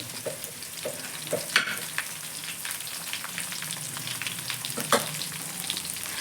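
Green chillies and curry leaves fry in hot oil for egg fried rice, giving a steady close sizzle with a few sharper pops and light stirring scrapes throughout, no voices.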